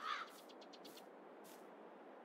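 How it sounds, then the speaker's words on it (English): Crows caw several times in quick succession in Farming Simulator 22, faint and distant over a steady low ambient hiss, with no speech. "And of course we got crows."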